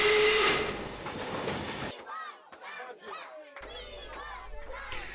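A loud, steady hiss of steam from a steam locomotive blasts for about two seconds, then cuts off, leaving a crowd of excited children's voices calling out nearby.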